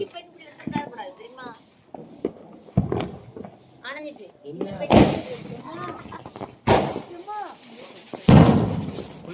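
Diwali firecrackers explode with several loud, sharp bangs spaced a couple of seconds apart, close by, amid continuous talking from people nearby.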